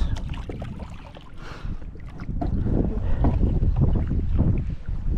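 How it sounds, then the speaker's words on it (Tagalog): A strong wind buffets the microphone in a continuous, rough roar that grows louder partway through, with water sounds beneath, out on the water by an island while kayaking. "alakas ang hangin"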